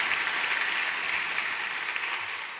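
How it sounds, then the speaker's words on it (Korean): Steady applause from a church congregation filling the sanctuary, even and sustained from start to finish with no voices over it. "격려의 박수 하겠습니다."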